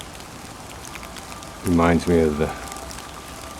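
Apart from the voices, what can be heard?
rain falling in the Roman Forum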